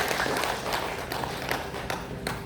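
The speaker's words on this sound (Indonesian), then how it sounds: "Tepuk tangan untuk semuanya." An audience at an Indonesian public outreach event on the four national pillars applauds. Steady, fairly soft clapping carries across the whole moment, with no talk over it.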